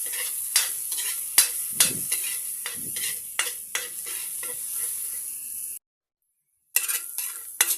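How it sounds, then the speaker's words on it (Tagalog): Onion added to garlic sautéing in a pan, with a bright, steady sizzle and rhythmic spatula scrapes and clacks, which break off into a brief silence before resuming. "Isasalin na din natin ang onion, guys."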